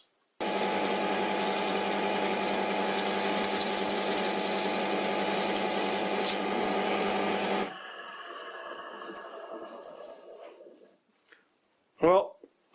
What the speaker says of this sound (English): Now I gotta do some derusting, some polishing, some de-smurfing of the blue color.